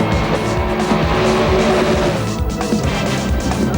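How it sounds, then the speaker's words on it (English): Drag racing cars launch off the line at WesBank Raceway in South Africa: a loud, continuous engine roar with tire squeal fills the whole stretch, dense and close. "Lionel goes, Rudy goes, but look at the way that Rudy's car jumps."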